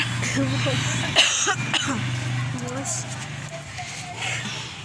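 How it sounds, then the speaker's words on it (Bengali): A person coughs and clears their throat a few times in quick bursts, close to the mic, amid talk in a home garden with marigolds, cabbage and chilli plants, over a steady low background hum. "1 মিনিট, কাশি হচ্ছে।"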